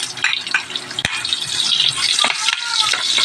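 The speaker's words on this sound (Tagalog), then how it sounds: "Simulan na natin igisa yung bawang." Garlic sautés in hot oil in a pan, a loud, dense sizzle that carries on throughout, with stirring scrapes and a single sharp knock near the start.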